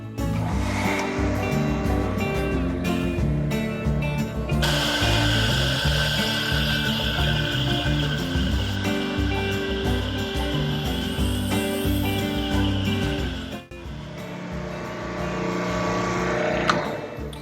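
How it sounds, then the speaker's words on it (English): A single soap wash system unit runs and pushes foam through its foam nozzle, giving a steady, loud rushing hiss with a mechanical hum that holds for the whole stretch and dips briefly once near the end. "So I'm going to fire up the unit and just show you how fast and how quick it foams."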